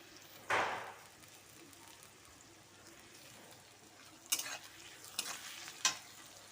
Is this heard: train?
no